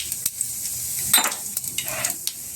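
Cumin seeds sizzling in hot oil for Diwali paper poha chivda, a soft crackling hiss with several brief spits and stirring scrapes, close by, with no talk.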